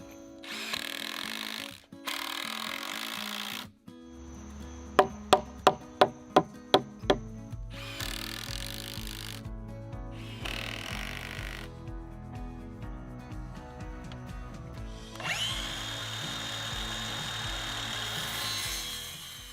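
A power drill drives screws through a 2x6 board into the wooden frame of a double-deep firewood rack, with several short whirring bursts separated by pauses, a quick series of rattling clicks and light handling noise.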